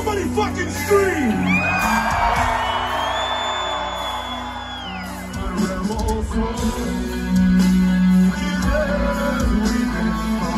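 At a live concert, a large crowd screams, whoops and cheers loudly and continuously, with a shouting voice over amplified music.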